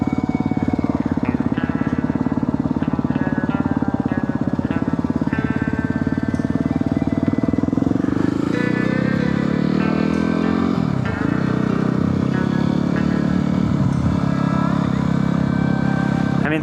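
A Yamaha WR250R dirt bike rides off-road through the Pine Barrens, its engine droning steadily and close up with shifting pitch as the rider changes throttle, continuing without a break.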